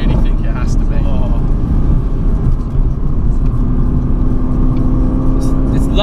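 A Mercedes AMG GTC Roadster revs hard while drifting on a winter road, heard from inside as a loud, sustained low engine roar with rising tones, and people talk over it.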